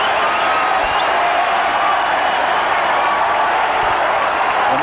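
Arena crowd at the Lewis Brown Athletic Center at Rutgers roars and cheers steadily through a college basketball game, a dense, loud wash of voices and whoops with scattered clapping that never lets up.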